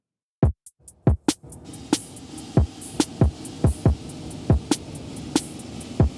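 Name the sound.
shimmer reverb effect on drums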